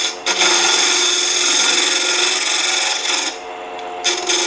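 A wooden salt cellar box is smoothed on a lathe, a loud continuous rasping hiss of abrasive against spinning wood, breaking off briefly near the end before starting again.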